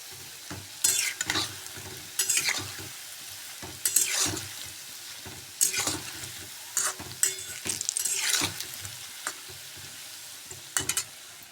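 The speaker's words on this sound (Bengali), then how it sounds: "আর এখন বানাচ্ছি তালের ফুলুরি।" Palm fruit fritters (taler fuluri) sizzle and crackle in hot oil, broken by repeated bursts of stirring and scraping in the pan, close and fairly loud with no talking.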